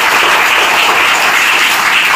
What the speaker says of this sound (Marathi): एकदा जोरदार टाळ्या त्यांच्यासाठी